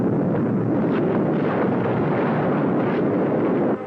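A rumbling missile explosion effect from a vintage sci-fi radio serial, a dense, continuous roar that fills nearly four seconds before cutting off abruptly.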